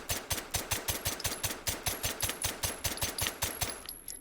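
Suppressed rifle fired two-handed with its stock, producing a rapid, evenly spaced string of about twenty muffled shots with sharp close transients and no talk.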